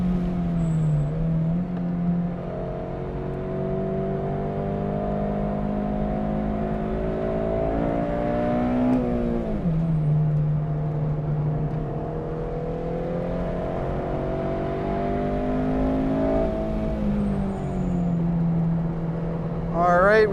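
Honda Civic Si engine on a race track during a track day, droning steadily with rising and falling pitch as it pulls through gears, loud and continuous throughout with a brief shift dip midway.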